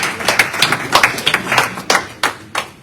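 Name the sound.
audience clapping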